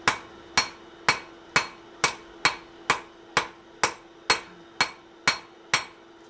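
Hammer blows dome a metal piece during forging, about fourteen crisp ringing strikes in a steady, even rhythm, close and clear with a faint steady hum underneath.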